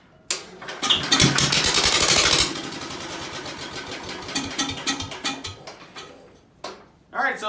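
An old Ford engine cranks, fires and catches, then runs loud and rough close by with an uneven idle that sputters and surges, while a person talks over it.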